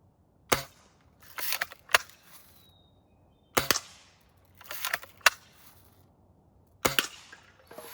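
A Western Justice Lil' Sure Shot BB gun is fired outdoors. About six sharp, snappy shots are spaced a second or so apart, some followed by a brief rattle, with near silence between them.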